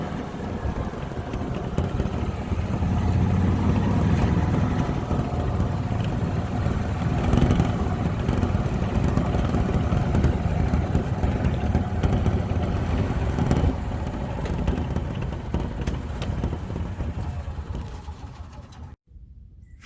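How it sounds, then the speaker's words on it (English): A 2021 Tracker Off Road Ox400 two-wheel-drive side-by-side drives along with a steady, moderately loud engine drone and rumble that holds for most of the clip, then cuts off sharply near the end. "If you're just looking for a little tiny two-wheel drive side by side, this thing has been fantastic so far as I've been driving it around today."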